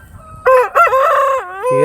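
A country chicken rooster on a farm gives one loud, close crow, a drawn-out rising and falling call lasting over a second, followed by the start of a further call.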